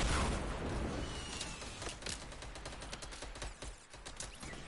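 Gunfire crackles through a Fortnite battle royale squad fight, a sniper rifle shot among repeated sharp reports that ring out over continuous mid-level game noise.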